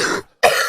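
Two quick harsh coughs from a chain smoker, separated by a brief silent gap, close and fairly loud with no speech.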